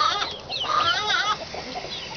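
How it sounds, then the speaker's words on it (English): A young cockerel of unknown breed from McMurray Hatchery, kept among 10-week-old pullets, clucks and chirps in a continuous, fairly close run of calls with no talking. "my mystery chicken I got from McMurray"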